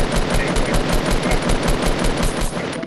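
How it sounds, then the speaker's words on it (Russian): Rapid bursts of Fortnite gunfire, steady automatic shots repeating loudly and closely throughout, with no talking. "слышу выстрелы"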